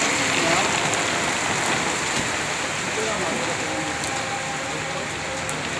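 Heavy rain falls in Lahore in a constant dense roar, with faint indistinct voices and sounds underneath.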